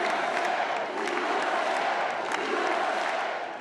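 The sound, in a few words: crowd cheering at Trump election watch party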